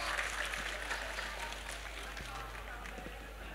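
Crowd clapping for the district chief at a Loy Krathong children's pageant night event in Ban Pong, moderately distant and steady, with a low electrical hum and some voices mixed in.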